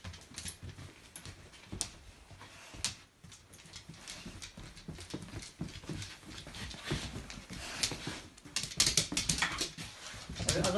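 A dog moves about during an indoor nosework scent search, with irregular soft paw taps, scuffs and rustles at close range, faint and without speech.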